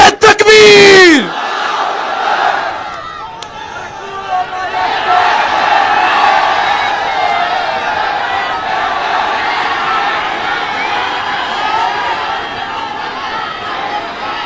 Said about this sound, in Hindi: जोरदार नारे से इस्तकबाल करें अलहाज बैरिस्टर असदुद्दीन ओवैसी साहब